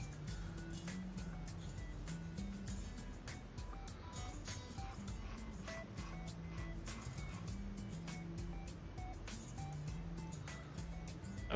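A 500-horsepower Scania S-Class truck with an Opticruise gearbox drives in Euro Truck Simulator 2, its engine a continuous low drone with shifting tones under faint clicks and background game sounds.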